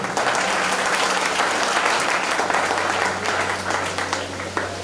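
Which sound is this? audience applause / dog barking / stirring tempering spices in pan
audience applause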